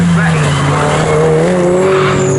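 An orange Porsche GT race car roars by loudly at a GT Cup Championship race, its engine note rising through the pass while a commentator talks over it.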